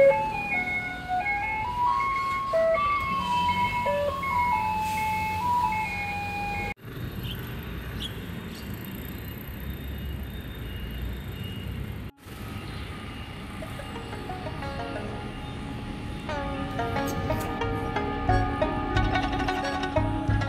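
Municipal garbage truck on a Taipei street playing its loud electronic melody, a repeating chiming tune that continues steadily throughout, close and prominent over background street noise.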